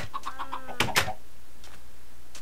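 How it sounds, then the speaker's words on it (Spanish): A chicken in a Minecraft-style video game gives a short series of soft clucks, followed by a couple of louder blips, then fades to quiet. "Ahí está, salió un pollito."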